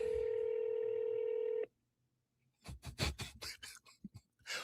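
A telephone is dialed and nobody answers: a steady, loud dial tone is heard alone, cuts off, and is followed by a quick run of close, sharp keypad tones.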